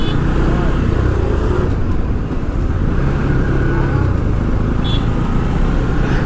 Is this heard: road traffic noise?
yes